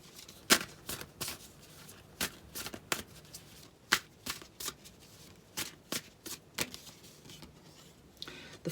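Tarot cards being shuffled by hand in a quiet room, a series of sharp, crisp riffling bursts at irregular intervals, fairly close and alone with no talk.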